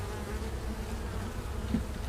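Honey bees from a small, struggling nuc colony buzz close by in a steady, low drone, several insects humming together without pause and no voices over them.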